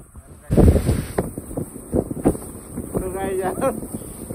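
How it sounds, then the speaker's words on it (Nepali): Gusty wind buffets the microphone outdoors in the hills of Bhojpur, a loud roaring rush that swells and dips, with faint voices and rustling beneath. "हाम्रो हावा छ सानो छ त हावा हेर्नु"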